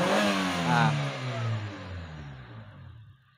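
A Honda car engine, its distributor just serviced with pulser cable, CDI and coil work and ignition timing being set, revs under the throttle in a strong rising-then-falling sweep, loud and close, with no talk.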